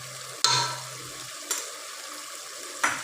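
Cumin, coriander and a black cardamom fry in a pan. Three short bursts of hissing sizzle rise and fade over a quiet background.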